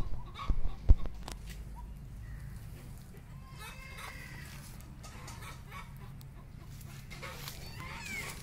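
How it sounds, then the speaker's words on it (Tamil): Country chickens at their shelter on a mango and teak farmland give faint scattered clucks and soft calls, with a couple of louder knocks at the start and quiet outdoor ambience throughout. "அதுதான் அந்த கொட்டை, அதுதான் அந்த நாட்டுக்கோழிங்க வந்து தங்குற இடம்."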